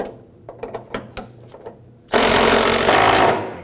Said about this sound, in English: now we can go ahead and run that bolt up, securing the tank in place.